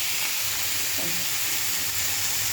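A bay leaf stirred through hot oil in a pan gives a steady close sizzle and hiss, with faint scraping of the stirring under the frying noise.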